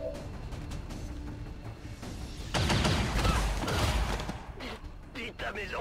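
Gunfire striking a soldier in the tactical game XCOM 2, a burst of heavy impacts and shots landing midway, with someone talking before and after.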